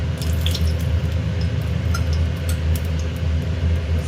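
Oil is poured into a hot appe pan, giving a steady faint sizzle and trickle with light drip-like ticks over a constant low background hum.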